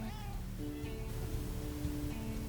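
Several cartoonish cat meows in a video game sound over a steady electronic music background, the mews short and overlapping.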